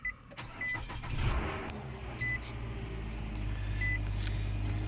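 A 2012 Nissan Altima 2.5 S cranks and fires up, then settles into a steady low idle hum heard from close by, with no talking.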